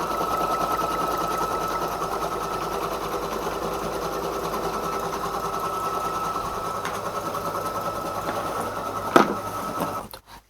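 A sewing machine runs a wider zigzag stitch in white thread on an embroidered 3D bear piece, a steady close whirring drone for about ten seconds that ends with a sharp click before stopping.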